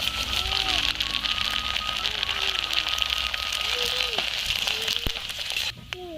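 Sago pearls fry in hot oil with a steady, dense sizzling hiss from start to finish, close and loud, while a voice murmurs faintly underneath.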